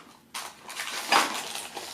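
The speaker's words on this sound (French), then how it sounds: "ça c'est la petite vaisselle" Small toy dishes being handled, light clinks and clatters of little plates and cutlery knocking together at close range, with a sharper rattle midway.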